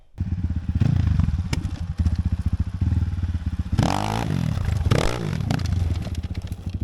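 A Geon GNS300 or CFmoto X8 motorcycle runs close by with a loud, rhythmic engine thump, revving up and down, with surges of acceleration and rattling clatter along the ride.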